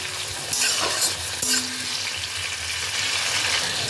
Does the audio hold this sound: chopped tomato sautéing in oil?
yes